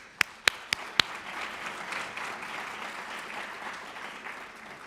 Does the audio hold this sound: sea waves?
no